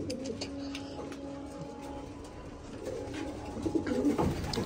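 Pigeons at a loft cooing in low rolling calls, steady and close, with some rustling and shuffling building toward the end.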